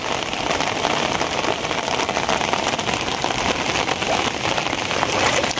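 Heavy, steady rain pours nonstop over a riverside char while China duari fishing traps are being hauled in, a dense even hiss of drops on surfaces with no gaps.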